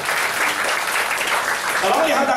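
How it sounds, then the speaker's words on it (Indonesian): A church congregation applauds in steady, dense clapping that holds at a constant level throughout. "Tepuk tangan yang lebih baik bagi Allah kita."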